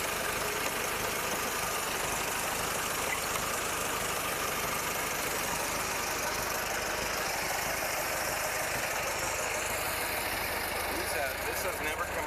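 A 1927 Ford Model T engine idles with a steady, rough mechanical chugging and vibration, close and unbroken throughout.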